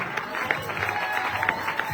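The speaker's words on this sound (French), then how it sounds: "Est-ce qu'on peut applaudir fortement pour la gloire du Seigneur?" A church congregation at a Sunday service claps loudly, a dense, continuous burst of many hands with sharper individual claps poking through, heard without talk over it.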